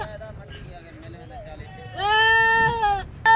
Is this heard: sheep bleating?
yes